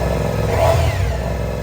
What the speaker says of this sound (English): Starting the engine certainly gave me, well, a start. It's loud